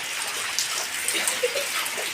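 Steady rain pouring down outdoors, a dense continuous hiss with scattered drops and splashes close by, loud and unbroken throughout.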